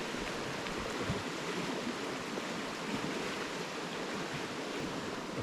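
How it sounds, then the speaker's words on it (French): Filtered water pours steadily from a small Cataline water filter into a water bottle while camping on a hike, making a continuous close splashing rush that runs without a break. "Je prends ma gourde et je verse le tout."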